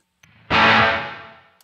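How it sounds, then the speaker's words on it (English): A single loud electric guitar chord through an amp simulator with reverb turned all the way up strikes and rings out, washing into a long, smooth reverberant decay that slowly fades over about a second. "you can hear how much of an echo there is"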